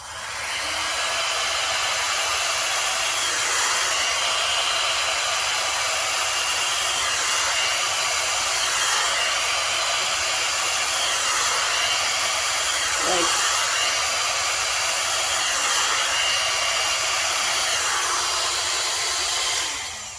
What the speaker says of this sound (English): I'm going to use my travel hair dryer on cool.